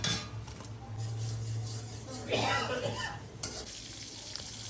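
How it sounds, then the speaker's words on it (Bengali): Whole spices such as cardamom, cinnamon, bay leaf and dried chili, then tomato, sizzle in hot oil in a kadai during temple cooking of an offering for Lord Jagannath, a soft continuous frying hiss with light stirring scrapes and clinks. "তো কড়াইতে এখানে গরম তেল দেওয়া হয়েছে।"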